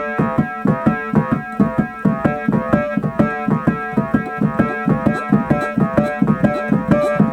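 A Yamaha CP25 keyboard plays a steady rhythmic pattern of repeated chords with a punchy, bright tone, loud and alone with no voices.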